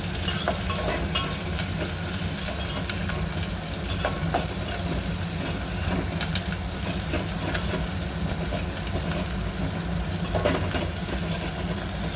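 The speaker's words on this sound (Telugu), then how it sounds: "కొంచెం ఆనియన్ ఫ్రై కావాలి." Onions with curry leaves fry in a pan for macaroni upma, giving a steady, dense, close-up sizzle that holds evenly loud from start to finish with faint stirring scrapes mixed in.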